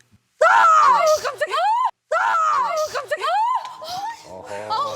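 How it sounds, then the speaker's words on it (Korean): Screams ring out through a house late at night in a Korean horror drama reenactment, two long, loud, wavering cries separated by a brief gap, shrill and anguished, with strained groaning tails. "온 집안에 비명 소리가 울려 퍼졌어요."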